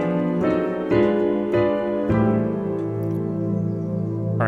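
A piano plays diminished passing chords in drop 2 voicings: four struck chords in slow succession, each ringing on, with the last sustaining and fading, and no talking.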